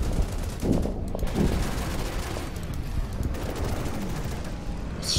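Gunfire from the wartime strategy video game Order of Battle: Pacific forms a dense, continuous rattle of battle noise, with a couple of slightly louder bursts near the start.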